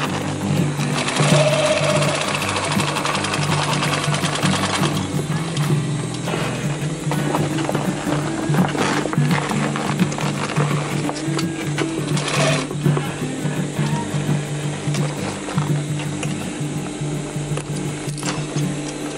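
A sewing machine stitches back along a seam of a DIY rollup bag, a loud, steady, close mechanical whir with rapid needle clatter running continuously.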